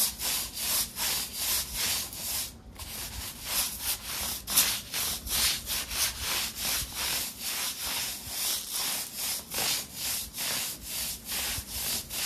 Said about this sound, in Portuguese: Vamos ver se dá pra usar esse sabão pra dar uma esfregadinha aqui no paver também.